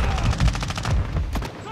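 Shotgun fire in Call of Duty: Modern Warfare II, a rapid run of close, loud gun bursts in quick succession, then a brief pause before two more shots.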